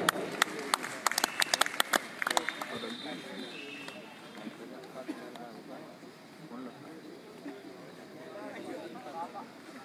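A concert crowd gives loud applause to welcome a guest singer at a central Indian music event, sharp claps bursting early, then easing into a steady, lower murmur of clapping and crowd noise.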